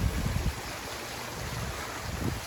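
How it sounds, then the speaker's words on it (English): Water from a pondless waterfall in a small landscaped backyard runs in a steady, soft rush, with low splashing pulses rising and falling throughout. "And this pondless waterfall."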